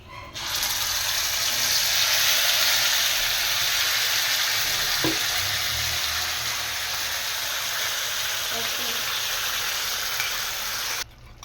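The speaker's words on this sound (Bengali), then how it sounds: "মশলাটা দিয়ে দেবো এর তেলের মধ্যে।" Spice paste of ground mustard, tomato, green chili and onion tipped into hot oil, giving a loud, steady sizzle and frying hiss that runs throughout, with a faint clatter midway.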